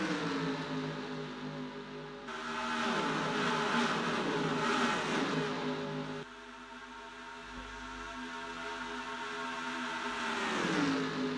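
A pack of stock-style race cars running four wide at Texas in a racing video game, a dense, steady engine roar with overlapping revving pitches that swell, dip briefly, and build again, with no voices.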